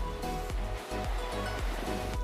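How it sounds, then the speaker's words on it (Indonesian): Beach waves at Tanjung Beloam on Lombok wash in with a steady surf roar, overlaid by a regular pulsing thump that repeats roughly every half second. "kita bisa menikmati keindahan pantai yang ada di Tanjung Beloam ini"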